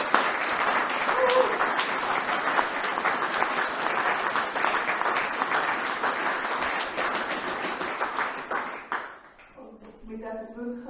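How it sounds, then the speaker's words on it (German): A church congregation applauds with steady, dense clapping for about nine seconds, then it fades and a voice begins speaking. "Ein mega Applaus."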